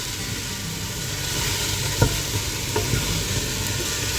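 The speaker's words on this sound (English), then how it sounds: "I'm just going to let these onions sweat down a bit" Onions sweating in a pot for homemade tomato sauce give a steady, even sizzle and hiss, with a couple of brief knocks partway through and no voices.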